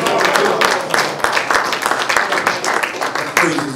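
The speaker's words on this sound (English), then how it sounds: "let us bring up our student regional minister here in the Delaware Valley, your brother and mine, student minister Rodney Muhammad, with a round of applause" A congregation at a Sunday lecture applauds to welcome a student minister onto the stage. The clapping is loud and close, with distinct rhythmic claps and voices calling out within the crowd noise.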